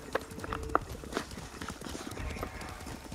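Horse hooves pound in Ghost of Tsushima, a few sharp near thuds over a busy game soundscape, with faint speech underneath.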